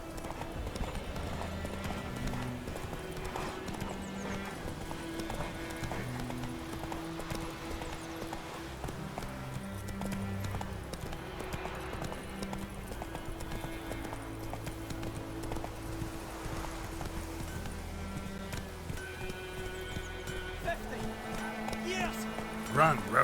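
Roach, a horse in The Witcher 3, gallops in a steady clip-clop of hooves that runs throughout at moderate volume over in-game music and ambience.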